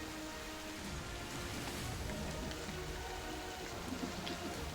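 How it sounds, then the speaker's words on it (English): Steady rain falls as an ambient sound effect in a tabletop game session, a dense, even hiss of drops on surfaces that continues unbroken with no talk. "you start to hear the rain around you"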